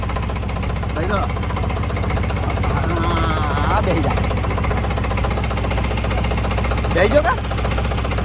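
A tractor engine idles steadily with a constant low rumble and rattle throughout, while people talk nearby over it outdoors.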